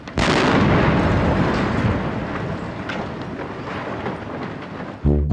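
A sudden huge explosion of a miniature ship for a film effect bursts in, then a long rumbling roar that slowly fades, cut off abruptly near the end.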